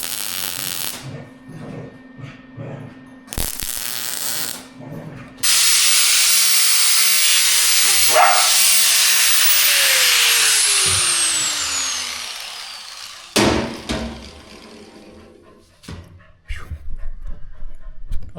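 A welder works on a car project: a loud, steady crackling hiss runs for several seconds, framed by shorter bursts and clanks, with quieter workshop noise before and after.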